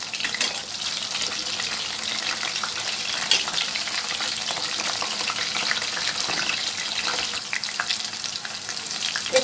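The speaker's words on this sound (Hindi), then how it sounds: "एक 4 से 5 मिनट काफ़ी है इसको फ्राई होने के लिए" Chicken pakoras frying in hot oil over medium heat, giving a steady, dense sizzle with crackling bubbles that holds evenly throughout, close up and with no voices.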